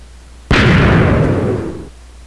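A TNT cannon charge in the Minecraft video game goes off in a single loud explosion, a sharp burst followed by a rumbling decay lasting over a second before fading to quiet.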